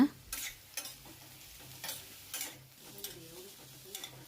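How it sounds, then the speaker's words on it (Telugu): Ridge gourd pieces fry in a pan for a homemade chutney, with a low steady sizzle and a few sharp scraping stirs, each followed by a brief burst of hiss. No one speaks. "ఇప్పుడు బీరకాయ ముక్కలను కూడా వేసుకొని బాగా మగ్గించుకోవాలి"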